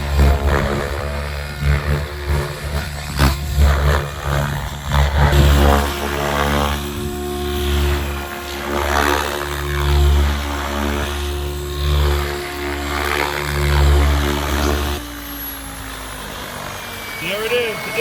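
A SAB Goblin Pro RC helicopter with a Pulse-powered electric setup flies nearby, its rotor whine steady under a rhythmic thumping blade chop, with occasional voices talking over it.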